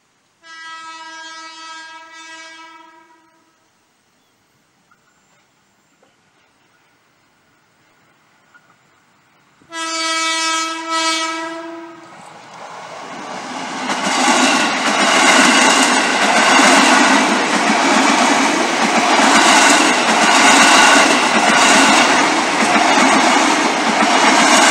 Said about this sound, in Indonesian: KRL Komuter Line persiapan melintas langsung di rencana pembangunan stasiun KRL Parayasa